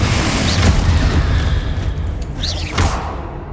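Confringo fire spell explosion in the Hogwarts Legacy video game, a loud sustained booming blast with rushing whooshes and rumble, filling the whole clip.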